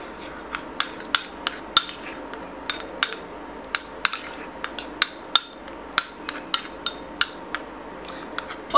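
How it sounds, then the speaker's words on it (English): A spoon taps and scrapes against a bowl while stirring a tea tree oil and butter mixture, sharp clinks recurring about every half second, close and clear over a quiet background. "Just gently mix them together."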